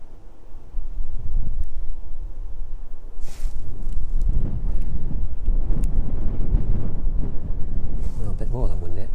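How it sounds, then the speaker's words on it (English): Strong gusting wind buffets the microphone at East Midlands Airport on an evening by the runway, a constant loud rumble with surging gusts throughout. "it's a bit windy here as well"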